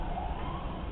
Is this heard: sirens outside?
yes